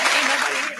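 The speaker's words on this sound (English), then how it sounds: "We're clapping." An audience on a lupus-focused talk show claps for a guest, a short, dense wash of applause that fades slightly toward the end.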